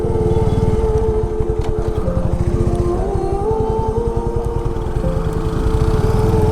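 Motorbike being ridden near the Statue of Unity, its engine putting out a rapid, steady low putter with slight pitch changes as it holds speed, close and loud throughout.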